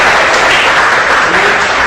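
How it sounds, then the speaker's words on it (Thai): Loud, close audience applause at a lecture on git version control, a thick unbroken burst of many hands clapping. "ก็ยังไงขอเสียงปรบมือ"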